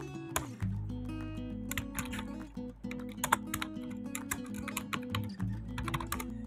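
Keywords typed on a computer keyboard, a run of close, crisp key clicks in an uneven quick rhythm, with several pauses, over a low background hum.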